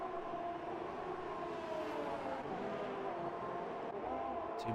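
Two McLaren Formula 2 cars running line astern in a racing video game at a German circuit, heard as a loud, continuous high engine whine with slowly shifting pitch and no talking.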